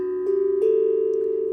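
Mellow, ringing tones from a Harmonic Star steel tongue drum stepping through a scale. Soft strikes sound a little over two-thirds of a second apart, each blooming into a long, sustained hum, close and clear with no talking.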